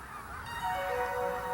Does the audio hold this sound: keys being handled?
no